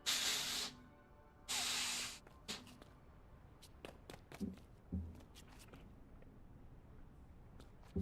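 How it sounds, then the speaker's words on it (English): Compressed air sprays in two loud, sharp hisses of about a second each, followed by quieter clicks, taps and rustles of handling close by. "How about that compressed air?"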